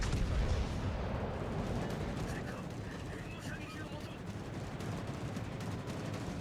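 Naval gunfire from the Gascogne battleship in a naval video game, firing on the Synop: a heavy booming blast at the start fading into a rumbling roar, with a voice talking over it.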